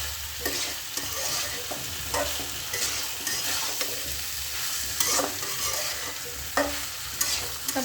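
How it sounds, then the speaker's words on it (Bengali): Boiled potatoes frying in oil with whole dried chilies and chili powder, stirred steadily: a continuous close sizzle broken by repeated scraping strokes of the spoon, with no talking. "এটা ভালো করে কষাই নেবো আমি আলুটা"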